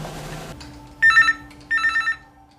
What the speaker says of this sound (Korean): 전화벨이 울리고 의료진의 표정이 어둡습니다.